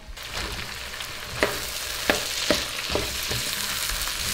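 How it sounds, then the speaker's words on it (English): Rice being stirred into a hot pot for African fried rice: steady close sizzling and frying with a few sharp scraping clicks of the spoon against the pot, no voices. "So just add the rice and then you stir it in bit by bit."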